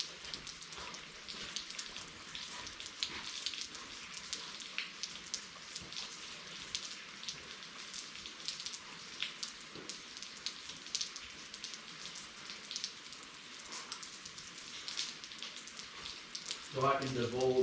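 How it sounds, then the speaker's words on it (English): Steady rain patters on surfaces outdoors in a soft, even hiss with scattered drops, fairly faint, and a voice comes in briefly near the end. "Watch the rain fall and listen to it"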